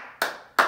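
Children clapping their hands during a church service give two sharp, close, loud claps about 0.4 seconds apart, with a faint hum between them and no talking.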